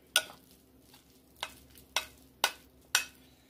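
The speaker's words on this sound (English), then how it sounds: "take and mix up your cream cheese and cheddar cheese mixture" A spoon or spatula stirring and slapping through a thick cream cheese and cheddar mixture with squeezed lime juice, giving five sharp, evenly spaced wet strokes, close up with no talking.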